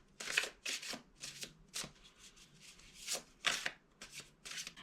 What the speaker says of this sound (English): when you're shuffling tarot cards